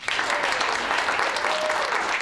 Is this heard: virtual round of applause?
yes